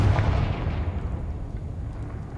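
Confringo fire spell blast in the Hogwarts Legacy video game, a loud fiery whoosh and rumble right up front that sustains and slowly fades, with no talking.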